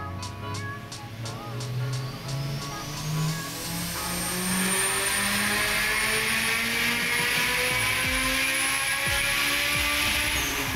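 Turbocharged Honda Civic on a dyno at about 13 psi of boost, the engine revving hard and climbing steadily in pitch as VTEC engages, loud and sustained with rising harmonics, a few sharp clicks early on.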